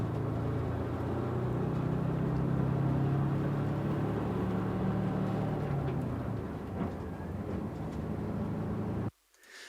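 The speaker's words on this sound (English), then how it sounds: "It's just the sound of a bus accelerating." A bus accelerates with a low, rumbling engine drone that swells and holds for several seconds. The rumble then fades gradually and stops abruptly at the end.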